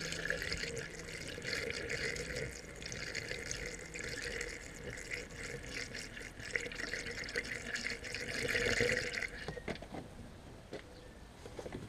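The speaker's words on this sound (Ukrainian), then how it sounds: "Вода тече, де вона взялася." Water flows and trickles steadily in the cooling system of a Fiat Scudo 1.9D diesel van being flushed with whey, a close, continuous splashing stream with small drips that thins out near the end.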